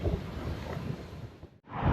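Steady roaring gusts of strong wind buffeting the microphone outdoors in Barcelona, broadband and close, easing briefly near the end before surging back.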